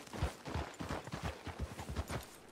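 Steady clip-clop of horse hooves walking at an even pace in a video game, fairly quiet and close, with no voices.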